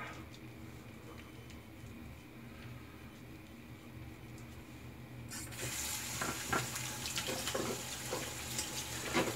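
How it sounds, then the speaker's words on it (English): Tap water running into a sink while a shaving brush is rinsed, a soft background flow that turns louder and splashier partway through, with small clatters and no talk. "Rinse out the brush a little."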